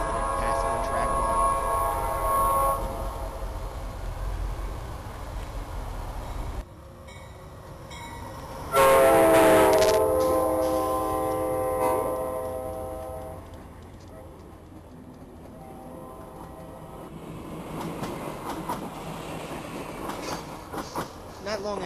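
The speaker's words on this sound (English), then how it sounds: "we have Amtrak P029, the Capital Limited, passing on track 1." An Amtrak Capital Limited passenger train rumbles past on track 1 with a steady roar and rhythmic wheel clatter, swelling loudly in the middle before fading off into the distance.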